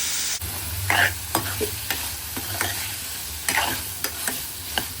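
Peas and paneer frying in a pan, a steady sizzle broken by repeated scraping and tapping of a spoon stirring through the pieces, close and without talk.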